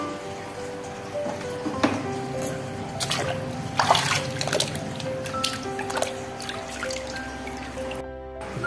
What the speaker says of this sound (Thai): ตักน้ำในบ่อนี่แหละมาล้างสดหินกรอง